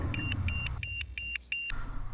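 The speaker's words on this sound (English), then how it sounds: "that little LiPo alarm once again was just going crazy and thought I had an 8S plugged in, so had started beeping constantly" A LiPo battery voltage alarm beeps in five rapid high-pitched bursts over about two seconds, loud and close, with no talking.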